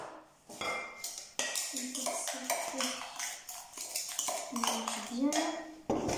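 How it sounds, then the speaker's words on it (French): A spoon clinks and scrapes quickly around a bowl as salt is stirred into brown sugar and vanilla sugar for crêpe batter. The close, busy clatter continues throughout, with a voice speaking over it. "Vous la mélangez avec le sucre roux et le sucre vanille."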